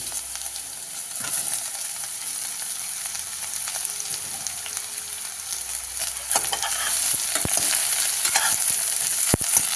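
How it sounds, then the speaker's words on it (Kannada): Chopped ridge gourd sautéing in a pan as it is stirred, with a steady soft sizzle, scattered scraping knocks of the spoon, and the frying growing louder toward the end. "ಈ ಥರ ತಿರುಗಿಸ್ಕೊಂಡು ಒಂದು 5 ನಿಮಿಷ ಬೇಯಿಸ್ಕೋಬೇಕು."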